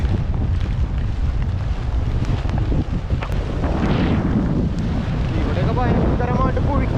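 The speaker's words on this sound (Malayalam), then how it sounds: "നല്ല രീതിയിൽ കാറ്റടിക്കുന്നുണ്ട് കേട്ടോ വടക്കുന്നാണ് കാറ്റ് വരണത്" Strong north wind roars and buffets constantly, loud and close, with a brief voice surfacing near the end.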